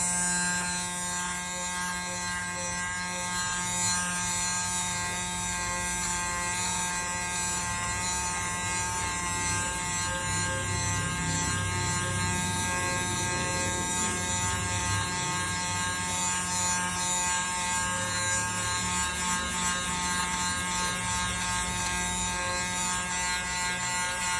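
An electric lint remover runs over clothing with a steady high motor whine and rough buzzing rub, continuous and close throughout.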